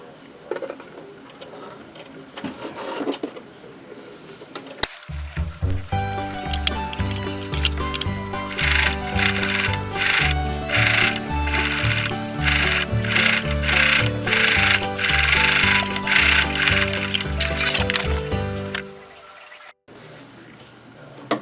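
A sewing machine stitches a seam around a quilted mug rug with a fast, steady, rhythmic whir and clatter for about fifteen seconds, close and loud, starting and stopping abruptly.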